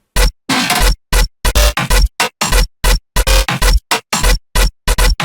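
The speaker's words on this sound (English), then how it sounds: "So the main bass sounds like this without the effects." Loud, choppy electronic main bass from a track's drop in a stuttering rhythm, abrupt bursts separated by short silences, dry and without effects.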